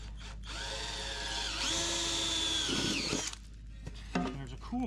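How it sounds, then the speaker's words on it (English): A power drill whines steadily as it bores holes in aluminum during a race car interior build, a close, high sustained motor tone that dips and then cuts off. "Drill my holes."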